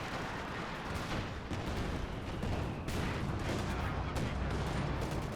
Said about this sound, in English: That was a beautiful artillery hit from what I don't know